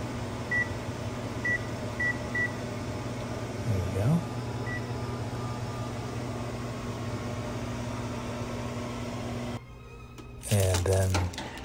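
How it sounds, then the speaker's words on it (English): An oven timer is set while baking meat-free burgers, giving a string of short, faint electronic beeps over a steady hum, followed by quiet handling noises and a louder clatter near the end. "And set the timer for about 15 minutes."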